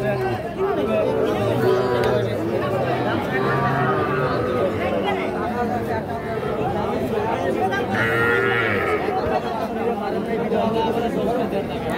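Bull calves at a livestock market low several times amid a steady hubbub of nearby crowd chatter and talking voices.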